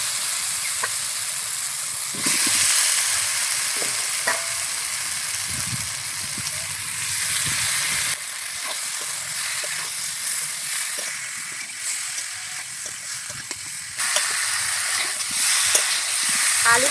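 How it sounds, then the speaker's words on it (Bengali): Potatoes and cauliflower fry in oil with spice masala, giving a steady close sizzling hiss that swells and eases in places, with faint clatter from stirring in the pan. "আলু ফুলকপি সুন্দরভাবে কষিয়ে নেওয়া হয়ে গেছে মশলার সাথে"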